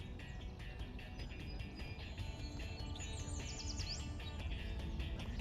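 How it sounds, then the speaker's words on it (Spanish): Small birds chirp in short, bright bursts that carry faintly over a steady, noisy background, with a quick run of high tweets standing out near the end. "Ahí están esos pajaritos otra vez."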